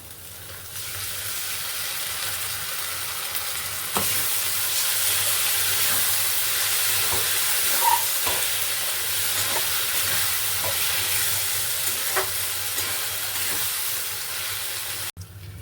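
Pointed gourd seed paste fries in a pan, giving a steady, loud sizzle throughout with occasional faint clicks of stirring, ending abruptly.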